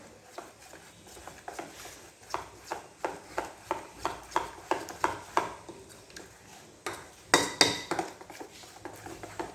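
A utensil whisks gram flour (besan) batter in a pan, making a steady run of quick, close tapping and scraping strokes against the metal with a brief louder clatter near the end.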